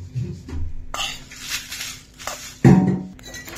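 Spices including black cumin dry-roasting in a pan, with sparse crackles and pops plus a few clinks and scrapes against the metal, close and fairly quiet.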